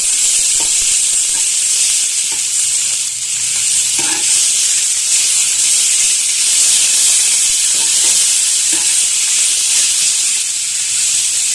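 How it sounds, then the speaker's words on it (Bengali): Ginger garlic paste frying in a pan gives a loud, steady hissing sizzle with faint stirring scrapes now and then, close up and with no speech. "ভালো করে ভেজে নিচ্ছি।"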